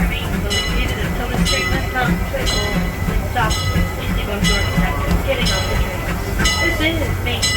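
The Disneyland Railroad train pulls into Main Street Station with steady rhythmic clatter of wheels over rail joints and metallic clinks, loud and close throughout.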